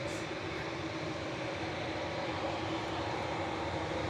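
A Ryanair passenger jet bound for Pisa roars steadily at Manchester Airport, a continuous broadband engine rumble heard from a distance with no break.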